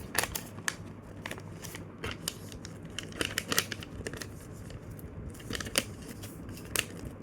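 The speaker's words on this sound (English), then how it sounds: "then you open it up and fold and squash fold" Paper being folded and squash folded into a paper airplane: crisp, close crinkles and sharp creasing snaps in irregular bursts, with short pauses between folds.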